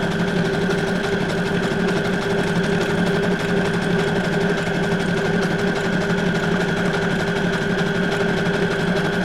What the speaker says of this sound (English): I knew I was going to sew the edges down